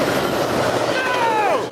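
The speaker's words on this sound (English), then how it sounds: "And another train" A train passes close by, a loud steady rumble of wheels on rail with a rising metallic squeal near the end, continuous and dominant throughout.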